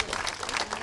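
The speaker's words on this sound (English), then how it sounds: "your parents also deserve a great round of applause" A short burst of steady clapping from an audience honoring the parents of a champion 10-year-old baseball team, dense and continuous throughout.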